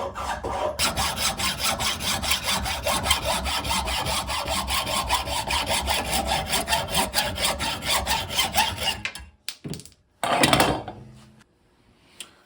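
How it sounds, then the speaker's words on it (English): A handsaw cuts the tip off a deer antler clamped in a vise, with fast, rhythmic rasping strokes for about nine seconds. Then the sawing stops, leaving a few short knocks and scrapes. "I'm going to tighten up this vise and just go ahead and saw the end of this antler"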